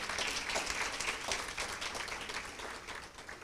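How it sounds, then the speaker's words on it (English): A room full of people at a pledge ceremony applauding, with steady, dense clapping held at an even level throughout and heard from a little distance, with no voices over it. "we should give you a round of applause again"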